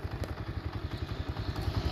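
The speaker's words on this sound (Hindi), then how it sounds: "ये हम बाइक पे जा रहे हैं घर।" Motorcycle engine thumping in a fast, steady pulse while riding along a village road, loud and close from start to finish with no voices over it.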